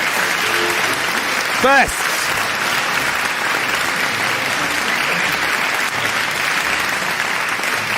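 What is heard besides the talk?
audience applauding debate contestants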